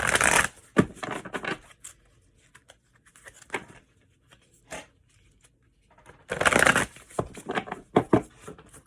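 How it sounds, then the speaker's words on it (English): Cards riffle and rustle in several short bursts with quiet pauses between, close and crisp, as a deck is shuffled by hand. "So let me give it a shuffle and then get you your moon card."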